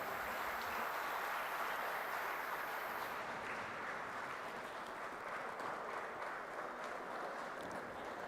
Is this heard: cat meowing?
no